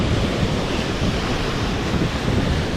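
Breezy wind gusting at Hazards Beach, with surf rolling in behind it, a steady loud roar and rumble close to the microphone throughout, no voices.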